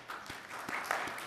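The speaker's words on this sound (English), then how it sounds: "Big round of applause for Ms." People at a city council meeting in Temecula briefly applaud the city's external auditor with a short, uneven patter of clapping from a modest group, fairly quiet and over in about a second.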